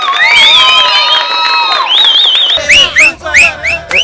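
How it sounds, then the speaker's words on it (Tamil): Political crowd at a rally whistling loudly, with long piercing shrill whistles followed by repeated short rising whistle bursts, cheering and shouting underneath, close and loud. "விசில் அடிச்சு கை தட்டுறீங்க"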